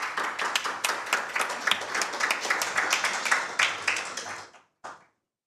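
An audience at a Korea-Germany digital health forum applauds to welcome a speaker, fairly close rhythmic clapping from a modest crowd that fades out, followed by one last isolated clap.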